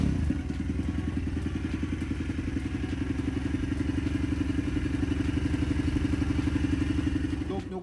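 A Varetti VR 150 cc motorcycle engine runs steadily nearby, a rapid, even putter with light mechanical clatter that holds for the whole stretch without stopping.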